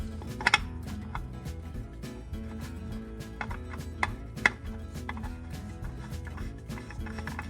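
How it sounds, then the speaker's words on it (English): An oil filter being screwed by hand into the filter housing of a 2019 Honda Civic LX, giving faint ticking and scraping clicks over a low background hum, close and with no voices. "After this, we will start screwing it in."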